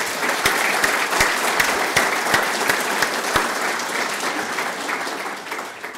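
An audience at a formal agricultural productivity event applauds engineer Javier Franco with dense, sustained clapping. A few sharper claps stand out early on, and the sound tapers gradually over about six seconds.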